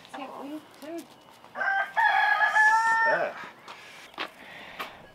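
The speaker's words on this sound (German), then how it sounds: "Die Hühner sind auch schon da" Several hens cluck softly nearby, then a rooster lets out one loud, drawn-out crow in the middle, followed by more scattered clucks.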